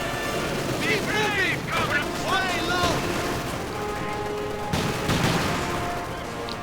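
Anti-tank rifles and machine-gun fire crack through a World War II strategy game battle between Soviet guards infantry and German Großdeutschland troops, with a dense, continuous barrage of shots and blasts beneath steady commentary.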